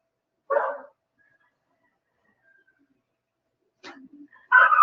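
Dogs in a home with many pets bark in two short bursts, one near the start and another at the end, with quiet gaps between.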